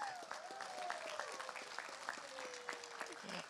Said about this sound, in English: A round of applause for our little.